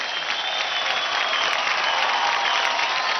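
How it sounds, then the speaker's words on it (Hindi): A dance competition audience gives sustained, loud applause for the dancer Shyam, a dense, even wash of clapping and crowd noise holding steady throughout with no break. "सुपर, जोरदार तालियां हो जाए श्याम के लिए।"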